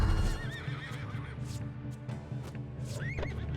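A horse in the video game Battle Realms whinnies loudly with rising and falling neighs, backed by hoof clip-clop and game sound effects in a short, busy burst.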